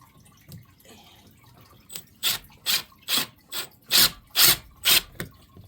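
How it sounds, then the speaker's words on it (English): A screw being driven into a wall to fix a cat shelf bracket, heard as a close sequence of about eight rhythmic grinding ratchet-like turns that grow louder and more regular, with no talking. "Okay, so now just need to screw it into the wall."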